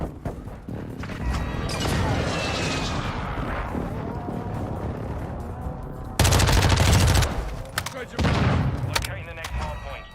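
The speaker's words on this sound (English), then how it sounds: "Enemy precision airstrike. Find cover." Explosive airstrike in a multiplayer shooter (NBA 2K23 session aside, a hardpoint match): a dense barrage of blasts and crackling gunfire, loud and close, with heavy bursts surging twice near the end and voices talking over it.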